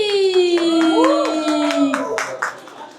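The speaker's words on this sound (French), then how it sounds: "Est-ce qu'on peut applaudir?" Audience applause at a church event on fashion and Christianity, rhythmic clapping that rises under a sustained, melodic voice.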